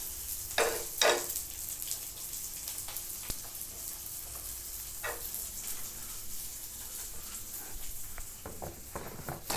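Gluten-free samosas dropped into hot oil give a steady, moderate frying sizzle with a few sharper crackling bursts, heard alone without talk.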